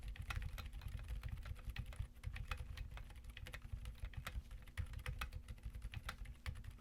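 Quiet, steady typing on a keyboard fitted with Silent Frozen switches, with soft muffled keystrokes in a continuous run and no talking.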